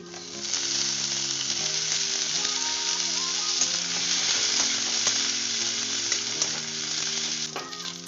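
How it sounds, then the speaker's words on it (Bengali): Taro pieces dropped into a pan with chopped onion fry in oil for a fish curry, giving a loud, steady close sizzle with stirring scrapes and no talk. "এবার আমি শোলা কচুগুলো দিয়ে দিচ্ছি।"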